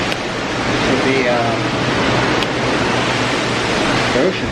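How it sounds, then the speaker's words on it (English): Loud, steady wash of rough ocean surf heard from a cruise ship on a sea day, a dense continuous roar with wind on the microphone and faint voices underneath. "ocean's very loud today"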